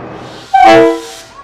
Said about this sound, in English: DBR 1254 left the coaches in the loop and ran light engine to Kinleith